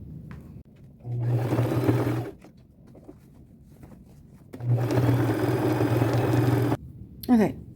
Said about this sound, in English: And I'm going to sew it twice with the straight stitch just because this is so thick.